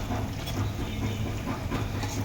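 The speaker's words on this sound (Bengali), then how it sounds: "চুলার তাপটা কমাই দিয়ে খুব আস্তে আস্তে ভাজতেছি।" Eggplant fritters (beguni) fry slowly over low heat in oil, giving a steady, dense hiss and crackle that stays even and close throughout.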